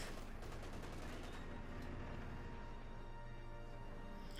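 Light machine gun fire in a Company of Heroes 2 battle, a dense, continuous stream of rapid shots mixed with other gunfire across the whole stretch, steady and loud.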